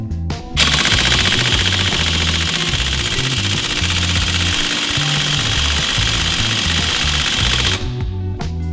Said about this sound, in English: struggling with that rusted on axle nut with this impact gun, it is not budging anywhere